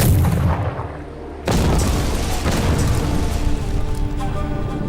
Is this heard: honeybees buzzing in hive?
no